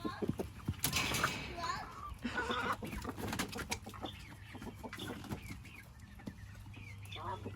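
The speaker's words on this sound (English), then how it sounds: "Let's give it to the chickens." Chickens cluck and squawk nearby on a backyard homestead in scattered, busy bursts, with a low steady hum running underneath.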